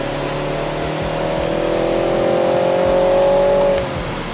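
A G20 BMW 330i engine with a new exhaust revs steadily upward under acceleration, a sustained rising drone that holds for a few seconds and then drops off as the throttle lifts.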